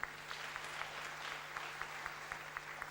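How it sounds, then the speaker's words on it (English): Audience clapping for a doctor at a Christian ethics class, a soft, thin patter of hands heard at a distance over a low steady hum, fairly quiet throughout. "Maybe you can give him another applause of claps"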